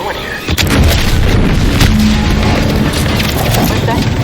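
A loud, rumbling explosion in the video game The Outer Worlds 2 fills the scene with sustained, dense booming and crackling debris that continues without a break.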